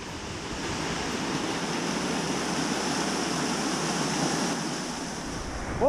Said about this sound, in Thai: เราจะได้ยินเสียงของน้ำตกนะฮะ